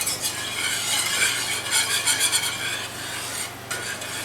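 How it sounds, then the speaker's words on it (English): A whisk scrapes rapidly through gravy in a cast iron pan, a dense, close, rhythmic rasping that runs without pause over a low frying hiss. "Let me get my whisk. Okay. Got my whisk now."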